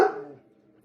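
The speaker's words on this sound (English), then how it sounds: "I have no idea what they're barking at." A dog gives one sharp, close bark that fades quickly into a short tail of room echo.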